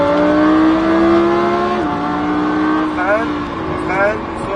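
A Lamborghini Huracan accelerating on a race circuit, its engine note rising steadily and loud from inside the car. Brief dips mark quick gear changes, and the rise continues after each one.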